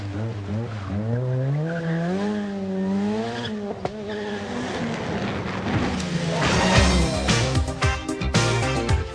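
A Ford Sierra Cosworth rally car on a stage at the 1988 Rally van Haspengouw, its engine rising in pitch through the gears as it passes nearby, followed by rough, gravelly tire and road noise.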